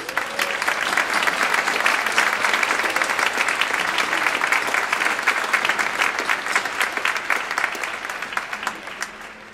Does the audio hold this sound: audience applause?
yes